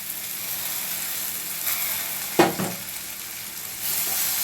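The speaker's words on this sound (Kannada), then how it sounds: "ಟೊಮೆಟೊ ಸ್ವಲ್ಪ ಫ್ರೈ ಆಗ್ಬೇಕು ರೀ" Chopped tomato frying in a pan with onion for a green gram stir-fry, a steady near sizzle broken by one sharp clatter of a spoon midway and a brief louder hiss near the end.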